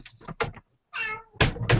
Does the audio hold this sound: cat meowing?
yes